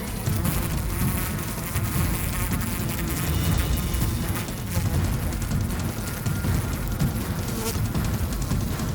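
A dense, continuous buzz of many bees swarming close by as they attack a hornet, steady and loud with no pauses.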